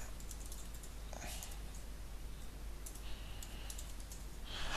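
A file path typed on a computer keyboard, quick light key clicks in short bursts, faint under a steady low hum.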